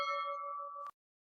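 A bright notification bell ding on a YouTube-style channel intro rings out alone as a single clear chime, sustaining for under a second before a quick metallic click cuts it off into silence.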